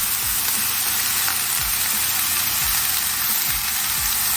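Herbs go into a pot of vegan Jamaican gungo rice and peas, a loud steady sizzle and crackle of frying throughout, with a few low clunks from stirring underneath.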